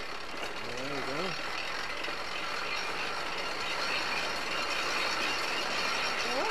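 A rope-making machine turns with a steady mechanical whir and ratcheting clatter, continuous and fairly close, with a brief voice cutting in near the start.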